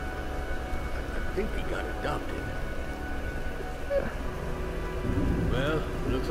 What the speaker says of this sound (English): Well, looks like a storm's brewing.